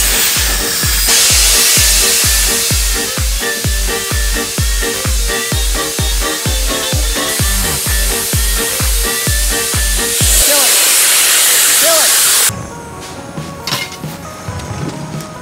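A water jet machine cuts through a liquid nitrogen dewar, a loud, steady hiss with rapid rhythmic pulsing that runs for about ten seconds, then stops abruptly and leaves a quieter hissing tail.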